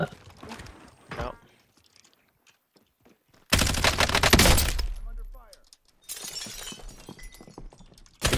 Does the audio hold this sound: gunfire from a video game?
yes